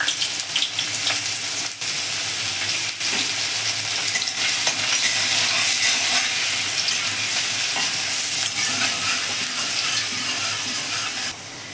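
Ginger and chili sizzling in hot mustard oil for a vegetable chop, a steady, close crackle with occasional stirring clinks and no voices.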